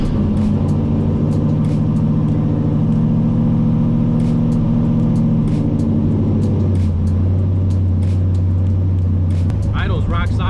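Engine with Holley Terminator X fuel injection running on a dyno after a cold start, settling into a loud steady idle hum whose tone drops partway through, with faint ticking above and brief noise near the end.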